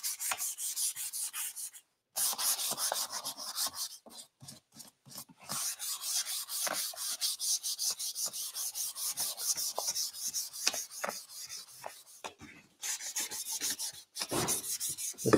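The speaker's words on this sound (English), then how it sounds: "The salt wash is not wanting to rub off with this DIY paint" A hand-held sanding block rasps steadily against a DIY-painted wooden clock with a salt-wash finish, giving close, scratchy back-and-forth rubbing strokes with brief pauses and no speech.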